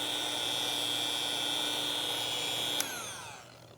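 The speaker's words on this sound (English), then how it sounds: "gives me a nice, even cut with a very slight tilt to the polisher" A rotary polisher fitted with an extension whines steadily at high speed, close and loud, then spins down after a sharp click near the end.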